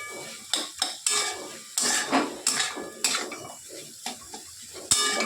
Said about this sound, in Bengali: এই পটলটা এর মধ্যে দিয়ে দিলাম। এর সঙ্গে এবার এটাকে নাড়তে থাকবো।